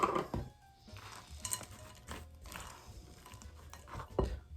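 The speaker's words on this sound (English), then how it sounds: "Stir in the apple," A spoon works diced apple and butterscotch chips into gluten-free apple cinnamon scone dough in a bowl, giving soft scraping, clinks and dull knocks against the bowl in an uneven rhythm, no speech.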